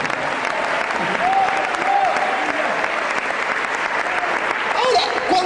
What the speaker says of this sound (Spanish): Den una ofrenda de aplauso grande al Señor